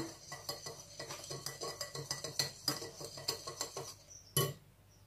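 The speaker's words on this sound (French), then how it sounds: "2 cuillères à soupe de sucre, vous mélangez bien" Flour, salt and sugar for scones mixed in a bowl, a quick rhythmic run of light clinks and scrapes from a utensil against the bowl, ending in one sharper knock before trailing off.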